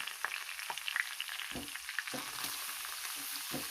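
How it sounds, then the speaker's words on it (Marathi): Bottle gourd being sautéed in a pan over low heat for a sweet halwa, with a steady soft sizzle and occasional stirring scrapes throughout. "कमी गॅस करून आपल्याला हा भोपळा चांगला परतावून घ्यायचा आहे"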